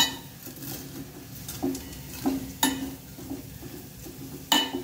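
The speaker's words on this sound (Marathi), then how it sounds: "आता थोडंसं आपण चमच्याने शेवया थोडंसं दाबून घेऊया" A spoon pressing Maggi noodles down in a pan, with a few sharp metallic clinks and taps of the spoon against the pan over a quiet sizzling background; no one speaks.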